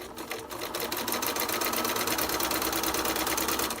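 A sewing machine runs steadily and close by, chain-sewing quarter square triangle quilt pieces, its fast needle rhythm holding an even, continuous whir after a brief start.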